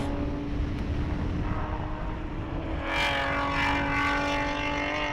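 Touring 3 class race cars at the SCCA National Championship Runoffs heading through the carousel turn: a distant engine whine holding a steady pitch, then a louder, closer car sweeps past with rising rasp, with no voices.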